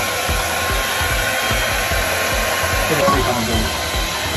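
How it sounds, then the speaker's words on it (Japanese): Hair dryer blowing on a Maltese-Pekingese mix dog after a shampoo, a loud continuous airy roar held steady throughout, with a person talking briefly over it. "じゃあ、ドライヤー行こうね。"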